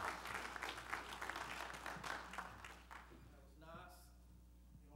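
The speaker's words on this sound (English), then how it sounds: "Give him a hand as he comes to preach for us this evening." A church congregation at a Free Baptist church applauds as a preacher steps up, a soft wash of clapping for about three seconds from across the room before it fades and talk takes over.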